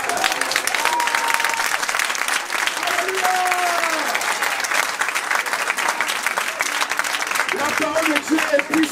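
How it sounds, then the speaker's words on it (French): A church congregation claps steadily and loudly, with scattered cheers and raised voices over the sustained applause, with some sung or shouted notes near the end. "On peut acclamer le Seigneur."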